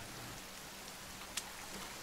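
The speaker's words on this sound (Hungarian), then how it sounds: "De jó, esik az eső is" Steady rain falls in the survival video game The Forest, a constant even hiss throughout with one brief sharp tick partway through.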